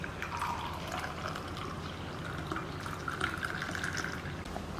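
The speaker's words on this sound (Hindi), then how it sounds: "तो अब हम इसे हमारे ग्लास में इस तरह से भर लेंगे।" Herbal kadha, a home remedy for cold, is poured into a glass, making a soft continuous trickle and gurgle of liquid, faint and steady throughout.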